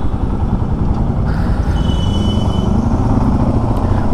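Loud, steady road noise and engine drone from a motorcycle cruising on a morning highway ride, with heavy wind rumble filling the low end throughout.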